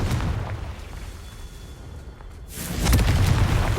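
A Confringo blasting spell detonates in Hogwarts Legacy, a single loud burst near the end following a low rumbling background.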